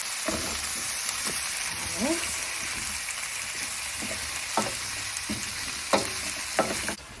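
Vegetables and halved peppered salami sizzle and fry in a pan, a steady close hiss broken by scattered scrapes and clicks of stirring, with no talk.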